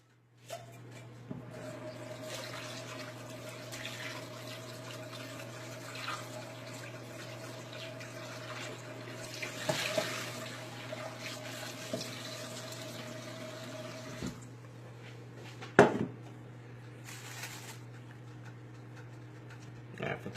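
A kitchen tap runs steadily while tilapia fillets are rinsed for ceviche, a continuous soft rush of water over a low steady hum, with occasional clinks and a sharper splash near the end.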